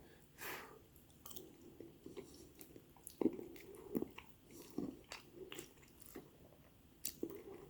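Close, soft chewing of a beef meatball from a pasta meal, with quiet moist squishes and irregular bites spread over several seconds, faint and intimate with no talk.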